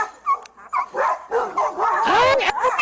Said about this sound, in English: The dog's back here.